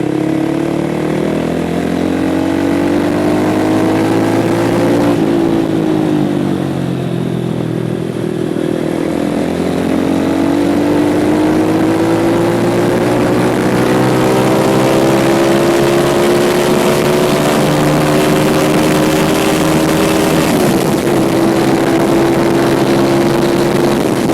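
A loud KPR 200 motorcycle engine revs continuously, its pitch rising and dipping through several throttle swells, close up and with no talking.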